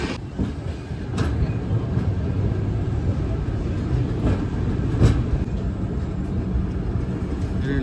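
Inside the Ganga Kaveri Express passenger train on the run from Bihar to Chennai, a loud, steady rumble of the moving coaches carries sharp periodic clacks of wheels over rail joints, with no one talking.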